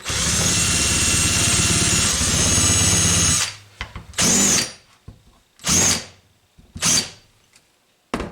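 An electric drill buzzes a bit forward through the fret marker holes in a wooden electric guitar fretboard: one long steady run, then three short loud bursts separated by near-silent pauses.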